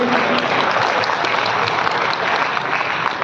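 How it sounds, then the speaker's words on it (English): A dense, steady wash of audience applause and clapping for a speaker at a UEI Global event, loud and sustained throughout with no break. "A round of applause for Anand"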